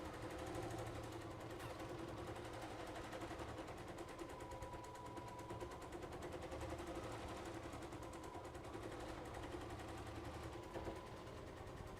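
A computerized embroidery machine stitches a quilting design around a pattern, giving a steady, rapid mechanical chatter that runs unbroken at a constant loud level, with no voices.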